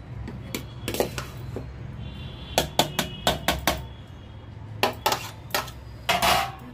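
Rice being served at home, with a spoon and dishes clinking: a run of sharp metallic clinks and taps, some in quick regular sequence, close by and with no voices.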